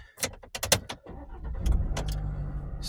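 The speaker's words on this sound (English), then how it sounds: "And we're going to start the truck up." A 2021 Chevy Silverado 1500 with a 2.7L inline-4 starts up: a few sharp clicks and clunks from the cab, then the engine catches and settles into a steady low rumble.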